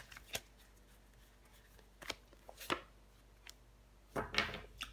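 Tarot cards laid out on a table, a few faint soft slaps and slides spaced apart, with a brief rustling flurry near the end.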